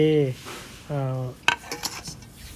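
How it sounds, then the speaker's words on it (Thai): Spoon stirring a lime-squeezed dressing for a Thai glass noodle and pork ball salad, giving one bright clink and a few light scrapes against the bowl after a short stretch of talking. "เมื่อบีบมะนาวเรียบร้อยแล้วก็คน ให้เข้ากันอีกทีหนึ่ง"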